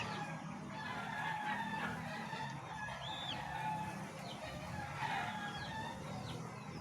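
Chickens in a newly finished backyard coop, with steady clucking and chirping and occasional crowing-like calls over a constant outdoor noise bed, moderately near and fairly even throughout.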